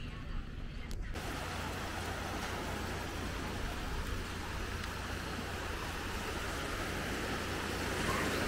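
Surf rolls steadily onto the beach at Maspalomas, a loud, continuous broadband wash of breaking waves with wind noise that sets in after the first second and never lets up.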